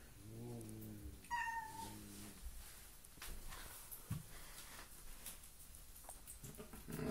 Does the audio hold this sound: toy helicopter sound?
no